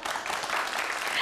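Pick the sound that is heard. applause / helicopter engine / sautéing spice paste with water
applause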